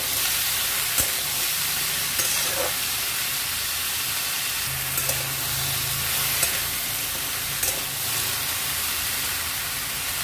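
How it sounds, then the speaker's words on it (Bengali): Vegetables sizzling steadily in a hot pan for a mixed vegetarian vegetable dish, with a continuous frying hiss and occasional stirring clicks. The sound is close and has no talk over it. "প্রথমে সবজিগুলো ভালো করে ফ্রাই করে নিচ্ছি।"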